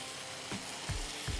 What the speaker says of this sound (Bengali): এটা এবারে ভালো করে কষতে হবে